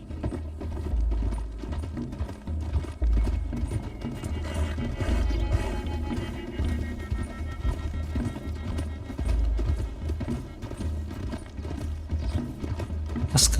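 Horses gallop in Red Dead Redemption 2 with steady, rapid hoofbeats that carry on through the whole stretch at moderate loudness, over a low rumble of movement.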